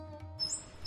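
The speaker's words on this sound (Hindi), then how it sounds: "ये किसी पक्षी के रोने की आवाज कहाँ से आ रही है?" An injured pigeon cries in an animated Hindi story, a short, high, thin chirping call that rises briefly over a faint low hum.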